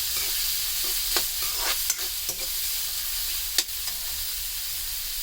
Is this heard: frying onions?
yes